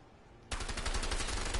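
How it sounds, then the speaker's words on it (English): Rapid machine-gun fire in the co-op video game A Way Out bursts in abruptly after a quiet moment and continues as a loud, sustained rattle of shots, with no voices over it. "I don't know where all these bullets are coming from"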